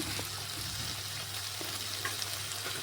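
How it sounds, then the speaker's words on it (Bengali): Ground spices fry in oil for a mutton and papaya curry, an even, close, continuous sizzle with faint stirring taps. "এই দেখুন বন্ধুরা, মশলা কিন্তু ভাজা হয়ে এসছে"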